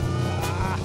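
A Ferrari 212 Export Vignale Berlinetta's V12 engine running steadily at idle, a smooth layered hum with a faint rasp, heard close and continuous for under a second.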